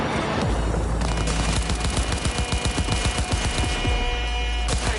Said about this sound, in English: Heard shots.